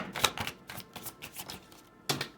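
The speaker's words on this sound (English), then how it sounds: "This deck is so small, it's hard to shuffle very good." Cards of a small oracle deck being shuffled, a run of short papery riffles and flicks spaced unevenly, close and fairly quiet, ending with a brief louder burst.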